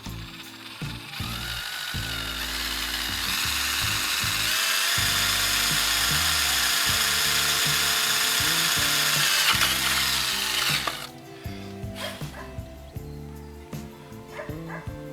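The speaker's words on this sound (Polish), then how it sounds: "przy użyciu wkrętarko wiertarki" A cordless drill driver whines loudly and steadily as it bores into aluminium for about ten seconds, then stops, leaving clicks and handling noises.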